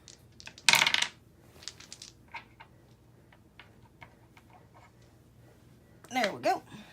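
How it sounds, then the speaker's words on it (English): Several dice clatter onto a tabletop during a board game, a sharp rattling burst near the start and another busy clatter near the end, with soft small knocks between. "And we get to roll a bunch of dice this time."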